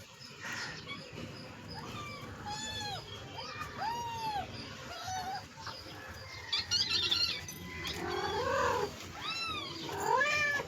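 A cat meows repeatedly in rising and falling cries, several distinct calls over steady background noise, with a dog also audible nearby.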